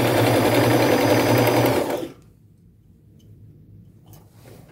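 Sewing machine stitching down the edge of a seam on a lace tunic made from thrift-store fabric, a close, steady whirring hum for about two seconds that then cuts off to near quiet.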